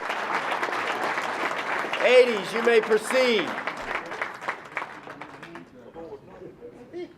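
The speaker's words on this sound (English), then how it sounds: "Let's give the 80s a big round of applause" Audience applause at a Martin Luther King Jr. Day breakfast, moderate clapping from a room of people that rises briefly and then thins out as a voice speaks over it near the end.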